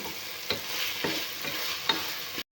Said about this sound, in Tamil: மஞ்சத்தூள் சேர்த்து நம்ம கத்திரிக்காய் வணக்கிட்டு இருக்கோம்.